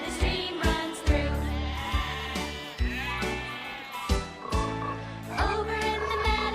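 Children's song with a singing voice imitating sheep bleats ('baa') over a steady bouncy music backing, the bleats recurring in rhythm with the melody.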